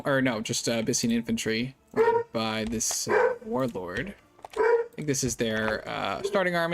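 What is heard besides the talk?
dogs barking and whimpering in the background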